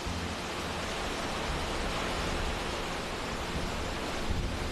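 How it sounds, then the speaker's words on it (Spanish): Clean, cold, clear river water flows through the Jerte Valley in Spain, giving a steady, full rushing wash that holds evenly throughout with no voices. "siempre llegaba acompañado del sonido del agua"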